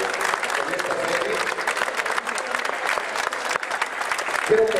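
A crowd at a cast presentation for a series claps loudly and continuously, a thick steady wall of applause with a few voices faintly mixed in.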